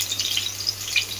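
Green chillies frying in hot oil in a pan, a soft continuous sizzle with faint crackles and pops, a low hum beneath.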